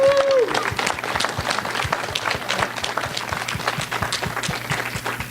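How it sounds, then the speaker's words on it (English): An evening gathering's audience applauds Madeline with dense, sustained clapping that stays loud and even throughout, after a brief opening tone. "Let's give her a round of applause."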